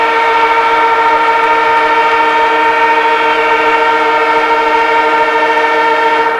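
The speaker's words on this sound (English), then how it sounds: "right on the siren" At a 1989 Australian football match between North Melbourne and Richmond, the end-of-quarter siren sounds as a loud, steady, droning tone that holds unbroken throughout, with no commentary over it.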